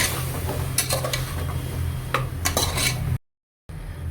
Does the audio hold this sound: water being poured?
no